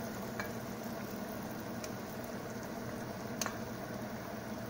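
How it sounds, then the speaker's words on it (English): Lebanese falafel patties mixed with sesame seeds frying in hot oil, giving a steady, dense sizzle and bubbling crackle throughout with a few sharper pops, close and alone. "now they're ready to go here in the oil, sizzling"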